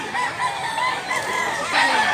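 Banugon rooster, an eleven-month-old green-legged bird, crowing nearby, a drawn-out raspy call with a rising final burst, loud and alone.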